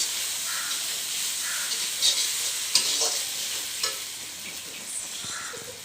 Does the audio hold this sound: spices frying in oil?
yes